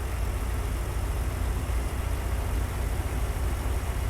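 A Kenworth truck engine in American Truck Simulator drones in a steady, low, even rumble with no change in pitch, moderately loud and alone.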